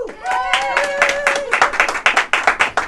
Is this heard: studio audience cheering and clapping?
yes